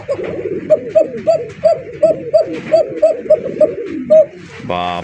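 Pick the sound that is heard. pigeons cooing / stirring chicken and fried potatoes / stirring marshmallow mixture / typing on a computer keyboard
pigeons cooing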